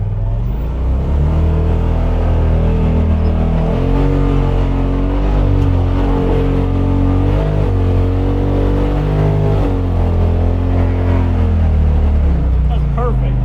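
An off-road vehicle's engine accelerates at full throttle with a loud, continuous droning roar whose pitch rises and wavers over about thirteen seconds, heard from on board.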